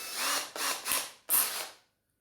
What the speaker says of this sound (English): We'll put a slightly bigger drill bit in.